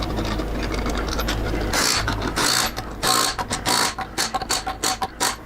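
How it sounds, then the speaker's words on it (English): Ratchet wrench tightening lug nuts on a trike wheel, rapid close clicking in short bursts with brief pauses, loud and alone. "So we'll finish torquing these down after everything is done."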